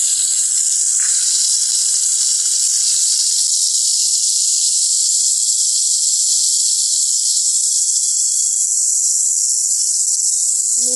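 Onion and tomatoes frying in hot oil in a pan, a steady loud sizzle and hiss that continues without a break for the whole stretch, close up with no talking.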